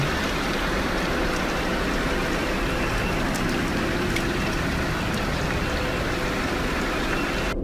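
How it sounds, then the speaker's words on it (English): Steady, dense hiss of rain falling continuously in Arlington, Virginia, broadband and even throughout, with no voices. "he decides to take a random video of the rain"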